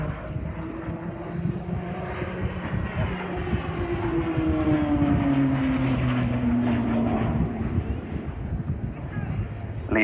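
A Short Tucano turboprop flying an airshow display at Southport, its engine droning steadily with a slowly falling pitch as it passes at a distance.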